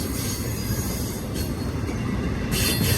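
A BNSF intermodal freight train rolls past close by, a continuous loud rumble of wagons and wheels with faint squealing rising toward the end, no voices.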